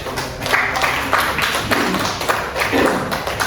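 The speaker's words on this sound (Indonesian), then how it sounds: "Tepuk tangan dulu untuk Stensif." Audience applause for Stensif at a school event on positive culture, loud close clapping with irregular individual claps and taps standing out across the whole stretch.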